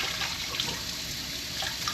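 Cool tap water runs through a milking hose into a sink, giving a continuous, even hiss and splash that stays steady and close throughout, with no talking.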